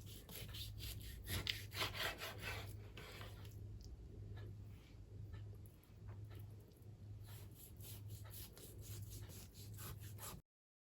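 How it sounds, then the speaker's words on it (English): A knife slices beef thinly for Ghanaian street-style suya, giving soft, repeated rasping strokes against the meat and board in a quiet, close setting, accompanied by a steady low hum. "I'm done slicing my beef"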